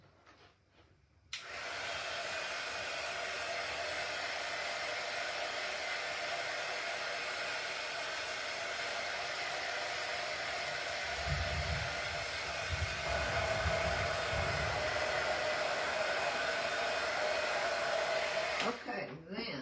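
A hair dryer switches on and blows with a steady, loud whooshing hum for most of the time, drying Fusion mineral paint on a door hanger, then cuts off near the end.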